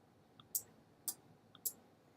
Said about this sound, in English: for the fan, and you can hear it click in the background here.